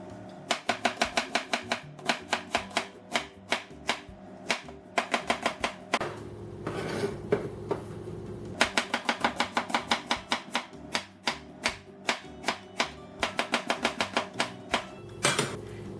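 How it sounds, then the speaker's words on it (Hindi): A knife chops an onion into fine slices on a cutting board, sharp close taps in rapid even runs separated by short pauses, with a brief scraping gather midway, no talking. "अनियन काट लेते हैं।"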